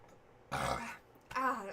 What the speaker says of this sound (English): I feel like I'm gonna burp.